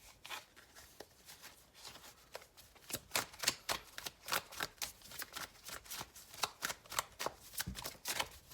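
A deck of tarot-style cards being shuffled up close, a quick run of crisp riffling flicks and slaps in a steady rhythm that grows louder after a quiet start, with no talking.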